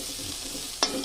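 Salted, turmeric-coated eggplant pieces sizzle in hot oil in a pan, a steady frying hiss broken near the end by one sharp clatter as they are stirred.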